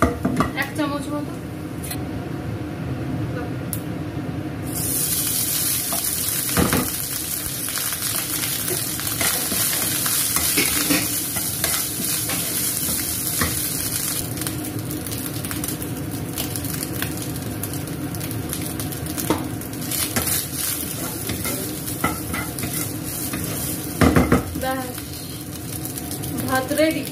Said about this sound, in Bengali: একটু ঘিতে জিরে দিয়ে গোলমরিচ দিয়ে ভাতটাকে ভেজে দিই।